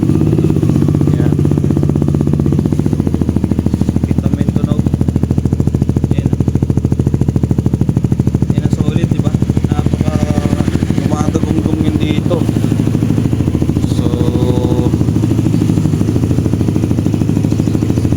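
Yamaha Aerox NMAX scooter with a stock engine and an aftermarket exhaust, idling from a cold start: a loud, steady, deep-toned thrum runs throughout, with a voice briefly audible over it partway through.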